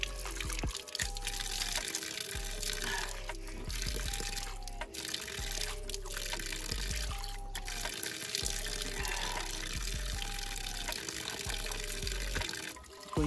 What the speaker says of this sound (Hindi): सो आई थॉट कि अभी मैं अपनी बॉटल भर रहा हूँ यहाँ से।